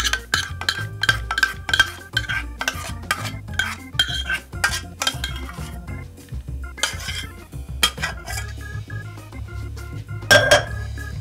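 Spoon scraping and clinking against a pot while špecle pasta is mixed with béchamel, onion and bacon, a steady rhythmic series of metallic taps and stirring sounds, close and fairly loud.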